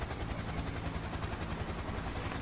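A helicopter in the video game IGI 2 Covert Strike makes a constant, fairly loud rotor drone with a pulsing low throb and no talk.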